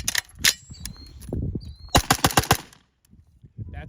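A lightweight pistol caliber carbine fires .45 ACP rounds outdoors into dirt: a few separate sharp shots, then a rapid string of about six cracks, then quiet with faint movement afterward.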